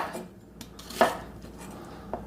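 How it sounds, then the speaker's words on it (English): A kitchen knife cuts through an onion on a cutting board, with a few soft taps and one sharper chop near the middle, close and fairly quiet, with no talking. "So we cut the onion in half"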